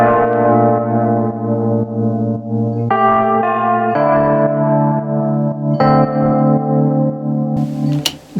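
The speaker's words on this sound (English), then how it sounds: "the main instrument that happens throughout all the arrangement is this Fender Rhodes here" A Fender Rhodes electric piano plays sustained, chiming chords heavily processed with effects, giving a bell-like, echoing tone that shifts between chord changes, loud and alone throughout.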